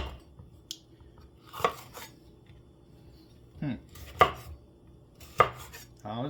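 Knife slicing through a vegetable on a cutting board, a few sharp separate cuts spaced roughly a second or more apart, close up in a quiet kitchen.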